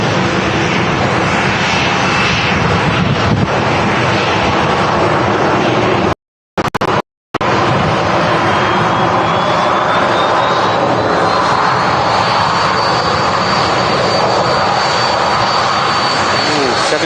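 A Boeing 767 airliner at Manchester Airport roars loudly and continuously, a broad sustained jet engine noise with a rising whine, interrupted by two short dropouts, with talk partly buried under it.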